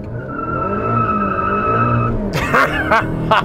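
Honda Civic Type R FK8 with hybrid turbo on E30 ethanol launching in first gear, engine revving hard before the tires break loose into a series of sharp screeching wheel-spin squeals, close and loud.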